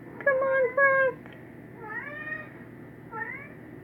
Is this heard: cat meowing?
yes